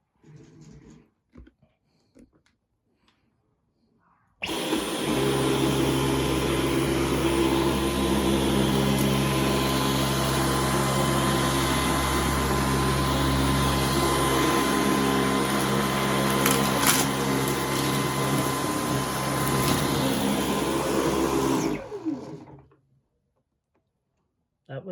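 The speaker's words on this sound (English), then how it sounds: "I'm gonna show you guys this vacuum in action." A Dyson V11 Torque Drive cordless vacuum cleaner runs with a steady, loud motor whine for about eighteen seconds, starting and stopping abruptly, with faint handling noises before it switches on.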